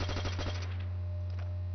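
Rapid burst of loud gunfire in Call of Duty 5 (World at War) free-for-all multiplayer on the Upheaval map, about half a second of close, sharp repeated shots followed by a low steady hum and faint rumble.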